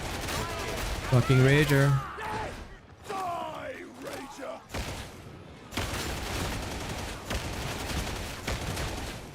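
Rapid gunfire in Warhammer 40,000: Darktide, a Veteran Sharpshooter spamming shots at a mutie, bursts of loud firing mixed with a monster's roar and a player talking over the action.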